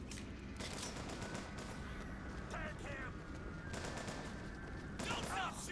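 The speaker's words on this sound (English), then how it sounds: "Don't stop shooting!" Gunfire in Bioshock 2 crackles as a steady, dense barrage of shots at moderate volume, with a voice talking over parts of it.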